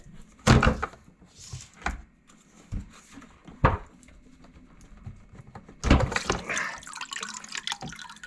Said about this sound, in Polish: A teraz muszę odłączyć jeszcze te rurki. Z nich też poleci trochę wody.